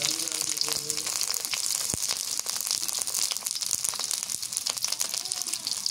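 Chopped onion and green chilies fry in a pan, giving a steady, loud, continuous sizzle close by with faint crackles throughout and no talking.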